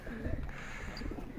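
Pigeons coo softly in a low, murmuring rhythm on a rooftop in Abbottabad, close by, with faint background noise.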